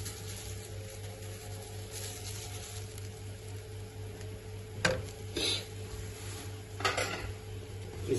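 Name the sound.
sautéing and stirring in a pan for white sauce pasta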